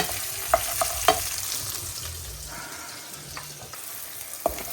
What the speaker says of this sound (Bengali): একটু লবণ দিয়ে এই পেঁয়াজটা একটু নরম করে নেব